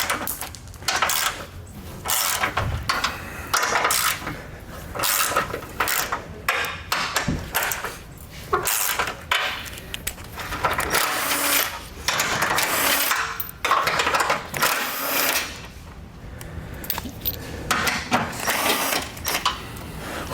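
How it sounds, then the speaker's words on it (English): An impact wrench removes bolts while a Roadmaster Direct-Connect base plate kit is installed on a 2017 vehicle, giving repeated loud, rattling hammering bursts with short pauses between them for about twenty seconds, with no talking. "if you take a wrench, loosen them up first, you can use your impact to remove them all the way"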